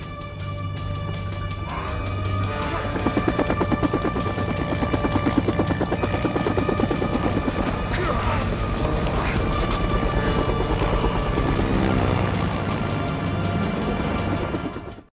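A police helicopter's rotor thumps steadily and loudly overhead while searching a swamp area in an action film, a continuous whirring drone that holds for the whole stretch without any talking.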